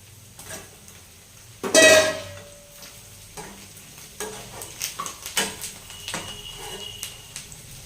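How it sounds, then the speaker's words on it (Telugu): Fried brinjals drop into a pan of kurma with a sudden loud splash and sizzle, then quieter bubbling, stirring and scraping clinks of a utensil against the pan, close up. "ఫ్రై చేసి పెట్టుకున్న వంకాయలు కూడా వేసేస్తున్నా"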